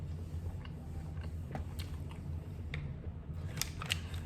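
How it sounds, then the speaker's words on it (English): Someone chews a dense, oversized bite of an MRE pepperoni pizza slice: quiet, close, moist chewing with a few soft crunchy clicks, no speech. "And I'm still chewing it."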